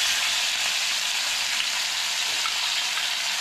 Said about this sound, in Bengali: তেলটা আমার গরম হয়ে গেছে, এবার আমি মাছ ছাড়বো।